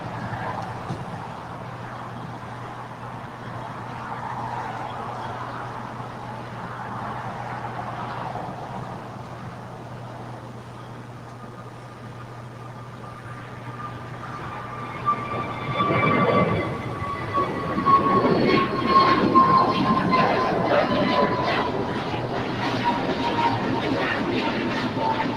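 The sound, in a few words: Alaska Airbus A321neo taking off at LAX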